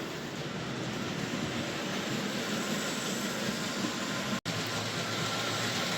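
A small model railway locomotive, serviced and fitted with enhanced detailing, runs steadily through the track points as a continuous close whirring rumble with a brief dropout near the end.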